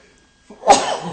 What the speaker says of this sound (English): That was the loudest sneeze ever.